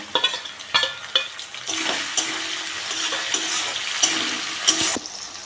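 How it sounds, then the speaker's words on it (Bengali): Prawns sizzle and crackle steadily in oil in a pan, with a few sharp clinks of a utensil at the start and occasional stirring scrapes. "চিংড়ি মাছটা ভাজা ভাজা হয়ে গেছে।"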